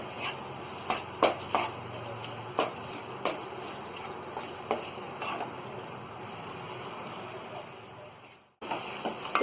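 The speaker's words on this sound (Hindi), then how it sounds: "और गैस को यहाँ हम मीडियम पे ही रखेंगे और इसे हम थोड़ी देर अच्छी तरह भून लेंगे।" Mawa (khoya) is roasted in a pan on medium gas: a soft continuous sizzle with repeated close scraping and tapping strokes of stirring, ending in a brief cut before the sizzle returns.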